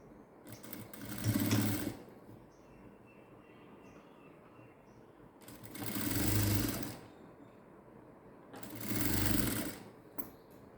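A sewing machine stitches a cross-cut blouse in three separate bursts of rapid mechanical chatter, separated by quiet pauses with faint handling noise, all heard fairly softly and up close.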